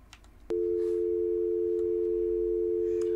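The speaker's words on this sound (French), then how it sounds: "Ça, c'est le téléphone. Ça m'a arraché les oreilles." A loud, steady electronic telephone tone from the video game Intruders: Hide and Seek starts abruptly and holds unbroken at one pitch, after a brief stretch of faint background noise.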